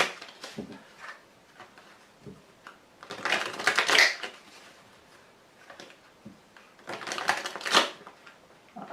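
A deck of cards is tapped and shuffled to square it during a card reading, giving two bursts of crisp papery riffling and tapping with softer handling in between and no talk.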